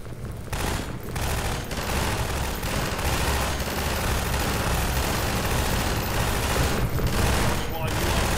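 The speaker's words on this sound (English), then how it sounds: "Why are you shooting that?" Sustained rapid gunfire rattles on for several seconds in the shooter game Half-Life 2, dense overlapping bursts with a few brief gaps and a low rumbling bed beneath.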